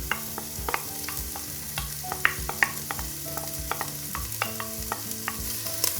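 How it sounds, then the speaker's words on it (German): Onions fry in melted ghee in a pot, a steady close sizzle under repeated utensil clinks and stirring taps, with faint tonal ringing from the pot, no voices. "Sobald das Ghee geschmolzen ist, geben wir unsere Zwiebeln hinzu."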